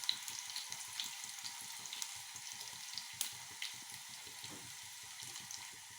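Dried red chillies sizzling in hot oil with shallots and mustard seeds for a mango curry, a soft continuous hiss dotted with small pops and crackles, quiet and close with no voices.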